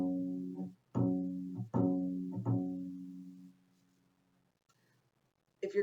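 A bowed string instrument sounds a few separate notes, each a clear sustained tone that rings out and fades into a short quiet gap. The last note is left to decay slowly, and a faint new note starts at the very end.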